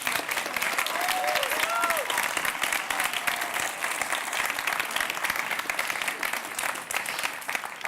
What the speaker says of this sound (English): let's have a big round of applause for our winning student teams